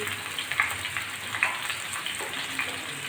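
Taro stolons (kochur loti) frying in a pan with potatoes, turmeric and salt, a soft steady sizzle with scattered crackling pops, close and without talk.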